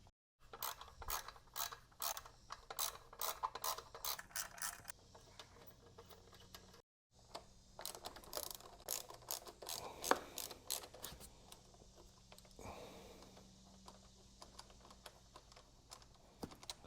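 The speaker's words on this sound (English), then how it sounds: "I'm removing the main bolt that's holding it on right now" A hand ratchet clicks rapidly while loosening the main exhaust mounting bolt on a 2022 KTM 1290 Super Adventure S, close-up bursts of quick metallic pawl ticks with brief pauses, fading to quieter rustling toward the end.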